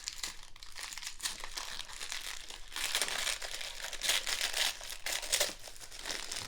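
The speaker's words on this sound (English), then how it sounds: "see if I can get this paper off." Paper wrapping on a Chanel 21K bag is crinkled and peeled away close up, with bursts of crisp rustling and crackling that swell and fade in irregular handfuls.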